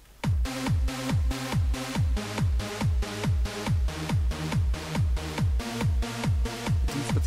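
A kick drum and bass pattern plays in FL Studio, loud and steady. Punchy kicks fall on an even, driving beat of about two per second, each with a short tonal bass tail, and nothing else is heard.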